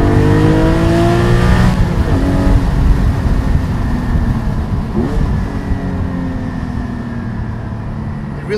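A Porsche 718 with an aftermarket Cargraphic exhaust revs loudly at about 3,000 RPM in third gear, its pitch sweeping down and back up as it downshifts, with a deep, steady exhaust drone throughout.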